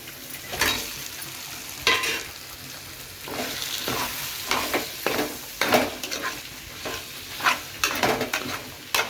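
Bitter gourd curry with tomato is stirred in a pan on low heat, with a steady frying sizzle under repeated scraping strokes of the spoon, close and moderately loud.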